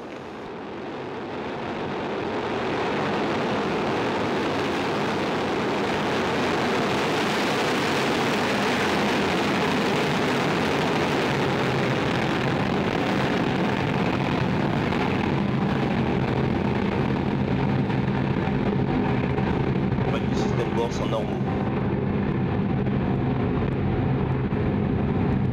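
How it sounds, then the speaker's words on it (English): Soyuz ST-A rocket lifting off with a satellite launch, a loud, sustained broadband roar that swells over the first few seconds and then holds steady and distant-sounding, with no talk over it. "décollage, liftoff."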